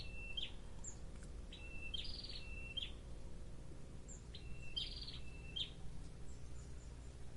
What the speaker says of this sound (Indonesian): Kita nikmati dulu suara burung.